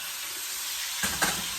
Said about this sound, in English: for about 2 minutes, 2 to 3 minutes on each side, we're gonna let them sear.